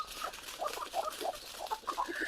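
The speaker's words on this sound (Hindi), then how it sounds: "ये है देसी मुर्गे, प्योर देसी मुर्गे, जो कि देहाती एरिया के अंदर है अभी फिलहाल" Free-range desi chickens on a rural farm cluck and chirp in short, scattered calls. The birds sound moderately near over a soft outdoor background, with no talking.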